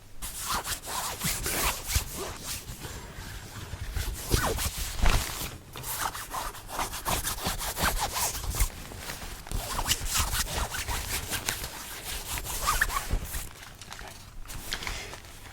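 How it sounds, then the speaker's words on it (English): A zipper rasps open and shut repeatedly, scratchy rubbing strokes at a close, quiet level, with some handling noise in between. "So this is the zipper."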